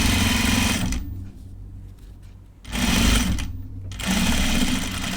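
Sewing machine stitching a pair of men's Jutland pants, a twill work trouser, running in loud steady bursts with a short quiet pause between runs, close up and alone.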